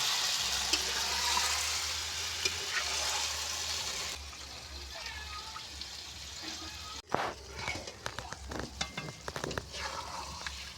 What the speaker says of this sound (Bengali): মাছটা দিয়ে দেবো। দিয়ে এইভাবে আমি নেড়ে নেবো ভালো করে।